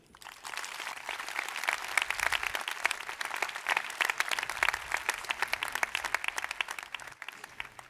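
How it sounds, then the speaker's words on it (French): Sustained, dense applause from a large audience at the Bordeaux bar association's formal opening ceremony, steady and full for several seconds before thinning out at the end. "je vous demande d'applaudir Antoine,"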